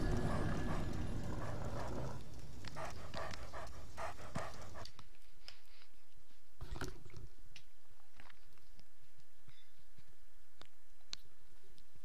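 Dogs in the video game Dark Souls II pant and scrabble loudly at first, then fall quieter, leaving scattered clicks and soft footfalls.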